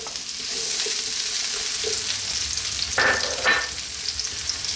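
Onions hiss and sizzle steadily in hot oil in a frying pan for a bolognese sauce, with a couple of brief scraping stirs of the pan partway through.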